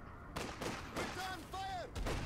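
Infantry gunfire in the Company of Heroes 2 battlefield, bursts of rifle and machine-gun shots crackling under shouted voices and other battle noise.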